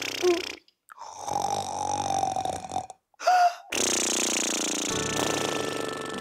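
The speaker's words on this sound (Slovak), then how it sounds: "Kto nám to tu chrápe do rozprávky?" Someone snoring loudly and close during a children's puppet theatre fairy tale, several long rasping breaths separated by short silences, with no talk over them.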